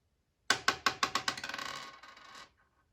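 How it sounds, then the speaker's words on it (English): A single die is tossed onto a hard surface and rattles through a quick run of bouncing clicks that speed up, shrink and fade out within about two seconds, close and clear against silence. "Let's roll this dice one more time."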